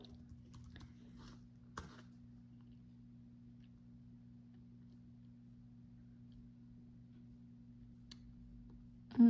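Brief bursts of computer keyboard typing tap out a zip code, soft and close, then stop, leaving a quiet steady hum for most of the stretch.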